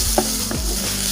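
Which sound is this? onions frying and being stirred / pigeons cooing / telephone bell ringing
onions frying and being stirred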